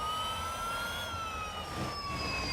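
A Lotus Evija electric hypercar in Real Racing 3 gives off a steady high-pitched whine with rising and falling tonal pitch, loud and continuous over a dense road-noise roar, with no voices.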